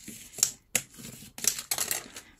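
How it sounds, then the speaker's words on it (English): Paper being folded for a gift bag with a window, with several sharp crinkles and creases in short bursts, close and fairly loud, with no talk. "I'm gonna fold it few times all over"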